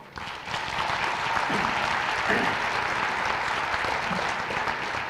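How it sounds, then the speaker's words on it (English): An audience at a school Teacher of the Year awards ceremony applauds and cheers, a loud, sustained wash of clapping that swells in after a brief quiet moment and holds steady until the end. "The Chargers are cheering for Rebecca Hill"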